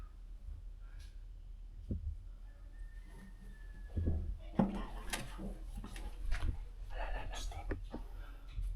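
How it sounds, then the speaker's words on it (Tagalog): A door knob rattles and clicks in a horror game setting: faint, scattered metallic clicks and knocks come through under low whispering and talk. "Yung doorknob ng pinto tumutunog."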